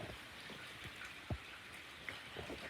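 Rain falling after a storm: a steady, soft hiss of drops with a few louder individual splashes, faint and continuous, with no voices.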